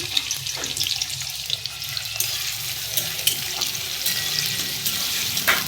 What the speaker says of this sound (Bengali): বেরেস্তার জন্য আগে একটু পেঁয়াজ দিয়ে আমি ভাজবো।